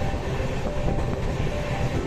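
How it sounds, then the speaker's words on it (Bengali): A passenger train runs on the tracks past Nellore toward Chennai Central, heard from on board as a steady, loud rumble with a faint rhythmic clatter of wheels. "ট্রেন নেল্লোর পার করলো, এরপরেই হচ্ছে চেন্নাই সেন্ট্রাল।"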